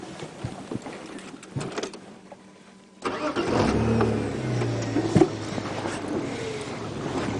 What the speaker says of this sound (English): when I start the car you'll be deaf